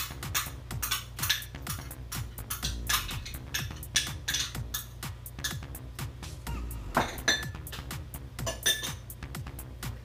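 Metal utensils clink repeatedly against a bowl as grated ginger goes into a char siu chicken marinade, with close, bright taps in an irregular rhythm throughout.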